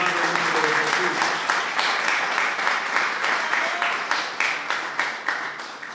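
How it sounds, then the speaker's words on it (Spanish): A church retreat audience gives steady applause, with many hands clapping in a continuous wash that softens toward the end into separate rhythmic claps. A faint voice speaks underneath at the start. "Dale un fuerte aplauso si quieres, mi hermano, en el nombre de Jesús."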